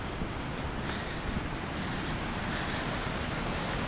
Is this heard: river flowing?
yes